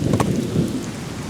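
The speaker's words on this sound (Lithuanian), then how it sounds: "Lauke 28, stipriai lyja, žaibuoja aplinkui" Heavy rain hisses steadily on an outdoor basketball court on a warm evening, with a low rumble of thunder at the start, no voices.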